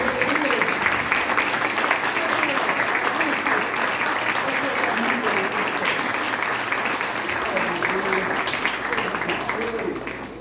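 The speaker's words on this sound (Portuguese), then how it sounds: "Uma salva de palmas." Sustained applause from a church congregation at a family service, dense clapping throughout at an even loudness, fading slightly at the end.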